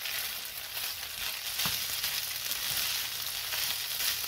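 Potato and ground beef picadillo sizzles steadily in a covered pan over low heat, a continuous soft frying hiss with a few faint clicks and no talking.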